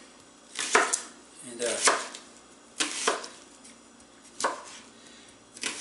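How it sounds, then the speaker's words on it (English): A knife chops through an onion on a cutting board in slow, separate strikes, about five distinct thuds spaced roughly a second apart, close up and fairly quiet between cuts. "now we're going to cut up our onion"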